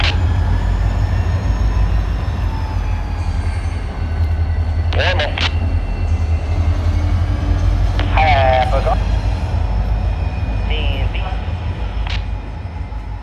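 An HO scale model freight train runs through a model rail yard, a steady low motor hum with a few brief squeals and clanks from cars and couplers, along with announcer-like background sound.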